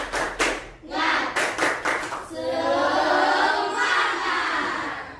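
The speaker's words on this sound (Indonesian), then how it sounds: "Febra, pimpin tepuk semangat. Tepuk semangat." A primary school class claps in a quick rhythmic pattern of bursts, then breaks into a loud sustained cheer of many young voices.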